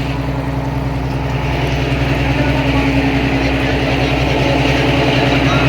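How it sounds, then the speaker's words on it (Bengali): Stern engine of a river passenger launch on the Barishal to Bhola route, running as a loud, steady, close low drone with continuous rumbling throbs and no breaks. "এটা হচ্ছে ব্যাক ভিউ পিছনের থ্রাস্ট হচ্ছে ইঞ্জিনের"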